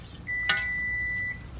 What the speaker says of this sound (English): And our timer just went off, so we're ready to eat.